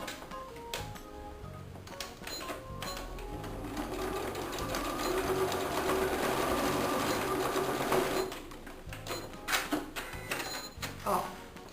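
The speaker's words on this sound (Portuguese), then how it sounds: "Eu vou passar uma costura bem no início." A sewing machine runs steadily, stitching fabric for a fabric bookmark pouch, with a quick start-up whir, a long even hum of needle strokes, then stopping; a person talks briefly before and after.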